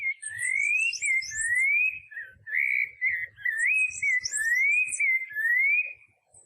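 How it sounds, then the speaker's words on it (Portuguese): A rufous-bellied thrush from Rio de Janeiro sings a series of rising, slurred whistled phrases, clear and near, with faint high chirps from other birds and soft low taps between notes. "E esse é um sabiá laranjeira carioca."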